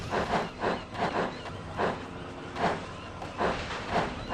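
Steam engine James from Thomas the Tank Engine chuffs along in the Trainz railway game, soft hissing steam puffs repeating in an uneven rhythm at moderate distance, fairly quiet, with no talk.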